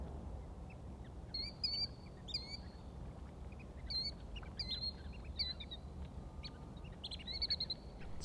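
Flock of snipe calling over wet summer sloughs, scattered sharp high chirps repeating in short bursts at a moderate distance over a quiet low outdoor background.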